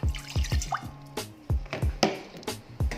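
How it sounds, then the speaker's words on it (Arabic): Water dripping and splashing into a pot as the first step of a sugar syrup for a chocolate cake, a series of distinct, close plops and drips in an irregular rhythm, with no talking. "لا بروميير ايتاب تاعنا نديرو الماء"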